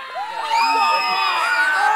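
A live crowd at a strength demonstration event erupts into cheering and whooping that swells and holds steady, loud and close, with high excited voices layered together.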